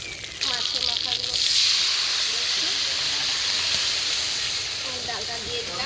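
Fish heads fry in hot oil in a home kitchen, giving a loud, steady hiss and sizzle that flares up strongly and then settles into a continuous crackle.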